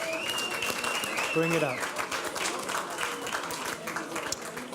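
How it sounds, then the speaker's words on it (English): A crowd at an ocean and climate gathering applauds the chef after a shared vegan meal, sustained clapping heard close and steady while a voice speaks briefly over it and a whistle-like tone rises early on. "So a round of applause for Philippe, please."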